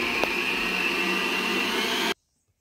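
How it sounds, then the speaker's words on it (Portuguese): Electric mixer whipping chilled cream with condensed milk for a walnut pavê, a steady loud motor whir that runs continuously for about two seconds, then cuts off abruptly into silence. "vocês cuidam no bater a nata, porque não pode bater demais, porque senão ela vira manteiga"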